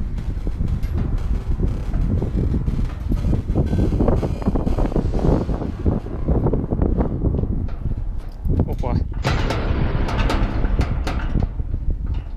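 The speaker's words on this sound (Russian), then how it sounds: "Тут очень ветрено" Strong wind buffets the microphone in a constant low roar on an abandoned giant excavator in Russia, with a person speaking over it and brief rustling bursts.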